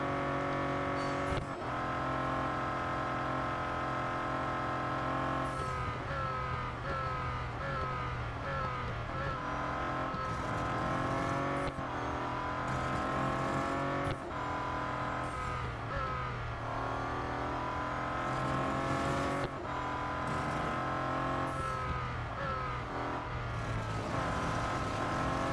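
Bentley Continental GT Speed race car engine in Real Racing 3, a steady loud roar with repeated upshifts and rising pitch sweeps, occasional brief tire squeal, no voices.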